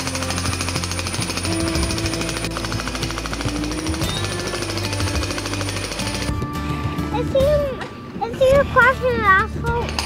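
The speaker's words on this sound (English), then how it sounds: "Yeah, that's a jackhammer." A jackhammer breaks asphalt in a rapid, steady rattle nearby for several seconds, then stops, leaving voices talking over wind and background noise.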